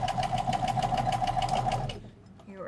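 Sewing machine stitching a straight line, a close rapid rhythmic whir with even needle pulses for about two seconds before stopping, with a voice talking over it.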